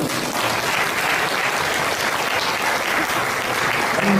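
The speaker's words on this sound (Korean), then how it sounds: "박수 한 번" Guests at a church wedding ceremony break into a sustained, even burst of clapping after the bride's vow, loud and continuous throughout with no talk on top.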